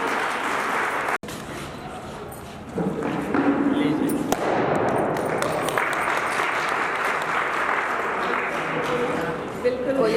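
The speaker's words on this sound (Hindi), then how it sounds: "जोरदार तालियों से उनका स्वागत है" An audience at a school retirement function gives loud applause to welcome the speaker, sustained clapping that swells after a brief pause and continues steadily, with voices heard over it.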